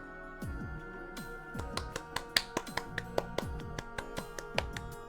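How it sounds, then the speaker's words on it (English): A clapping sound effect in the Umineko visual novel game gives a run of about a dozen sharp, crisp slaps, loose at first and then quickening into a steady patter, heard alone over soft background music. "Clap like it's the end of a play."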